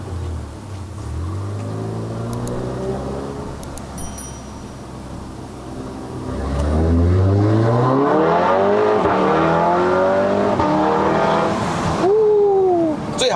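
A Stage 2 tuned MK7 VW Golf R driving uphill on a mountain road near Genting, Malaysia, with its engine droning, then revving hard through rising gears, loud and close from inside the car.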